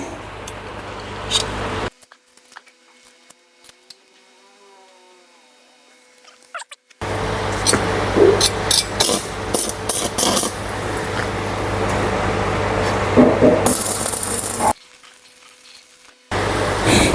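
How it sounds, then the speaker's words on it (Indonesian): Arc welding with a Morris MMA 120i inverter welder set to 70 amps and powered from a battery, giving a steady crackling sizzle that holds for several seconds between quieter stretches of hum. "Kita akan mencoba mengelas ini."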